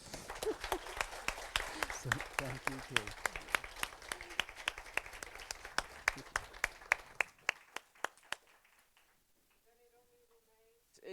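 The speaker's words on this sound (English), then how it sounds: "we have to clap really loudly so you can hear us" An audience at an academic seminar claps for its speakers, a fairly close patter of individual claps that thins out and stops after about seven seconds, followed by a brief spoken thanks.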